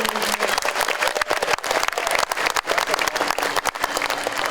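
A crowd at an evening wedding ceremony in St. Mary's church applauds, producing dense, continuous, fairly loud clapping that crackles unevenly for several seconds with no voices standing out.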